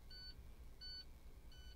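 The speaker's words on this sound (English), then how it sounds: "there go that beeping noise" Three evenly spaced electronic beeps from a truck warning alarm repeat steadily over low background rumble. They are high-pitched and moderately faint, with no talking.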